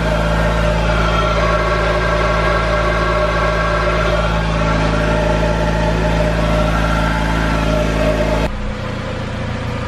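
An AWD Honda CRX engine idles loudly and close, a steady droning hum with stable harmonics that shifts abruptly near the end.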